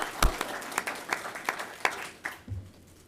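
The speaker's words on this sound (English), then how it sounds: "so let's give them a round of applause" Applause at a city council meeting, a scattered, fairly faint round of separate claps with a low thump near the end.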